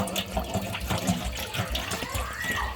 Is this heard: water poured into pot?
yes